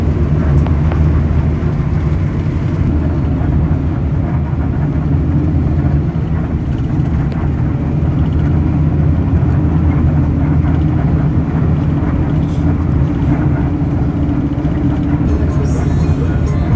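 Engine of a Kupu Kupu Ayu intercity bus running during a ride, a constant low droning rumble with cabin noise throughout, steady and close.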